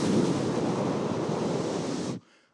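Wind and waves form a loud, dense rushing roar that holds steady for about two seconds and then cuts off sharply to near silence.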